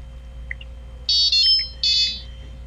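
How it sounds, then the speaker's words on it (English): Tovala Gen 2 smart oven beeps while registering during setup: a couple of faint short chirps, then two louder sustained electronic tones close by in a quiet room. "You hear that sound, made a little bit of beep, registering the oven."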